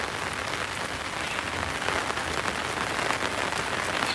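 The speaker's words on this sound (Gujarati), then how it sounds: "આ વરસાદ એવો બાટક્યો" Heavy rain falls continuously onto a hard surface, making a dense, even hiss with close-by patter of drops throughout.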